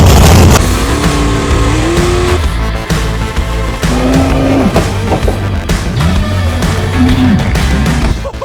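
A race car engine runs loud and close right after starting, with a rough, throbbing idle and uneven revs that rise and dip throughout.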